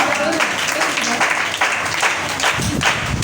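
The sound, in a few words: applause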